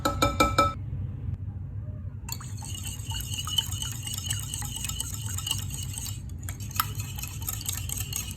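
Ingredients for low-carb cookie batter, including cream, an egg and vanilla, being mixed in a bowl: soft clinks and liquid stirring sounds, steady and close, with brief louder taps at the start.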